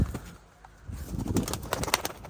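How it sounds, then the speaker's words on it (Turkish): Tumbler pigeons, a flock that includes young birds, fly overhead and coo, with soft cooing and faint wing flutters against a breezy outdoor background. No one speaks. "7 tane yavru kuşumuz şu anda uçuyor"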